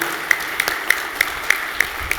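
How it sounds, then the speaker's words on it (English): Rhythmic clapping at a summit gathering honoring the event volunteers, a steady evenly spaced beat of sharp claps under a continuous crowd murmur in a large hall. "helping me give a round of applause for the people that put this event together"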